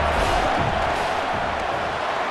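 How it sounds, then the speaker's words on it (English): Stadium crowd noise in the EA Sports College Football video game during a field goal attempt: a dense, steady roar of many voices with a slight swell early on, continuous and fairly loud. "This crowd trying to do its part to get inside the kicker's head."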